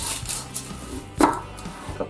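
Shallots being cut in half with a knife on a board, a few soft close taps and one sharper cut midway, quiet and alone.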